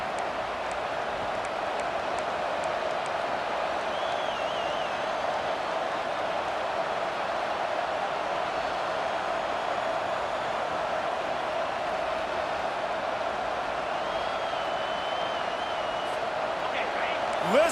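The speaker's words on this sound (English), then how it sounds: "Listen to this crowd just shaking the girders of this place, trying to help their defense." A stadium crowd roars steadily in the College Football 25 video game during Alabama vs Florida, a dense, sustained wash of cheering under continuous play-by-play commentary.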